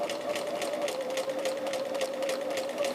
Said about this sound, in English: And we just stitch on the line.